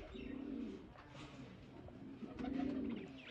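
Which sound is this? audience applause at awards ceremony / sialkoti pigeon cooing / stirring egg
sialkoti pigeon cooing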